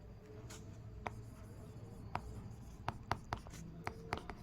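Trigonometry equations written by hand on a board or paper, a steady faint scratching of the writing tool broken by sharper ticks from strokes and taps, close and quiet with no talking.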